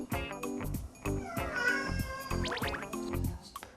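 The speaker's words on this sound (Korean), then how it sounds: "이건 좀 강력하게 요구할 때 야옹에 가깝거든요." A cat meows over and over, loud, close and demanding, in a steady run of calls.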